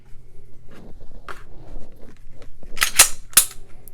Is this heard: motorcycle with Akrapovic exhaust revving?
no